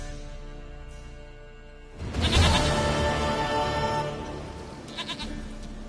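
A goat bleats in The Witcher 3 video game; a loud, broad burst of bleating begins about two seconds in and holds for a couple of seconds over a constant game soundscape, with faint chirps near the end.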